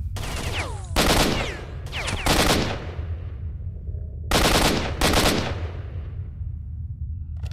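Gunfire in S.T.A.L.K.E.R.: Shadow of Chernobyl: four loud, close bursts of automatic fire, each followed by a long rumbling echo that fades between shots.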